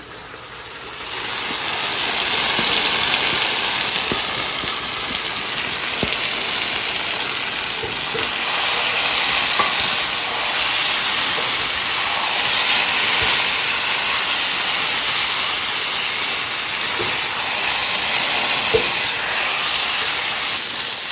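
Fried chicken pieces dropped into browned masala bubbling in oil, giving a steady, fairly loud sizzling hiss throughout with a few faint clinks of a spoon against the pan.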